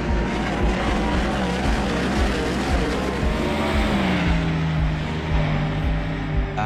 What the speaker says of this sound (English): Kyle Larson goes around the outside out of turn 4